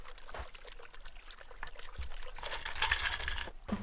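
Liquid pours into a glass for a Blue Lagoon cocktail, a soft trickling splash that builds and fills over a few seconds, close and fairly quiet, with a brief clink near the end.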